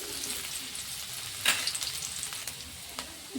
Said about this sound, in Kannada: ಇದಕ್ಕೆ ಇವಾಗ ಹಸಿ ಶುಂಠಿ ಹಾಕೊಳ್ಕೊತೀನಿ.